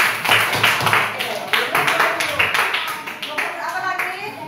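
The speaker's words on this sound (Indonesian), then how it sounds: "untuk kelompok Melati kasih dulu tepuk tangan" A classroom group of children and teacher clap for kelompok Melati, a burst of several claps that fades out gradually, with voices talking over it.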